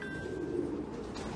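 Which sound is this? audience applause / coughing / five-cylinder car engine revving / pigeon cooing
pigeon cooing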